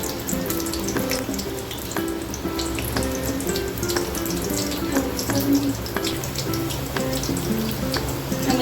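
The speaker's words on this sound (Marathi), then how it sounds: "त्यामध्ये आपण आधी बटाटे तळून घेऊया, लालसर होईपर्यंत आपल्याला तळून घ्यायचे।" Potatoes frying in hot oil in a home kitchen, a steady close sizzle with scattered crackles and pops that runs throughout.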